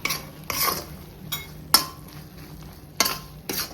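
Prawn pickle being stirred in a pan after the heat is switched off, with a few sharp metallic spoon scrapes and clinks spaced apart over a faint sizzle.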